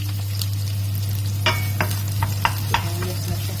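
Beef, broccoli and onions being stirred in a sizzling frying pan, a steady loud fry under a low hum with a handful of sharp scraping strokes of the utensil against the pan.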